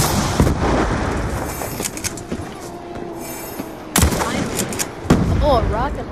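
Rocket launcher and other weapons firing in a GunGame video game match, sharp loud blasts and bursts of shots over busy game noise, with a voice talking underneath.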